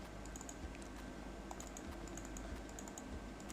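Fingers type an AutoCAD command on a computer keyboard, producing faint, quick keystroke taps in an irregular rhythm over a low background hum, with no talking.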